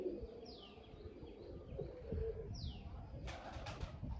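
Pigeons at a rooftop loft coo in soft, low repeated calls over steady background noise, with a couple of thin descending chirps and a short burst of rustling near the end.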